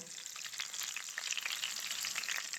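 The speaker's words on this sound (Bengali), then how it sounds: "চিকেনগুলো উল্টিয়ে দেবো চিলি চিকেন করার জন্য এই চিকেনগুলো খুব ভালো করে আমি ভেজে নিয়েছি" Chicken pieces frying in oil for chilli chicken, turned over in the pan, make a soft, steady crackling sizzle, close but low in level, with a busy spray of tiny pops and no voices.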